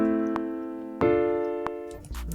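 A progression of minor triads played in Logic Pro X: one sustained chord moves up to a second sustained chord, clean and close, alone without talk, ending with a few soft thumps.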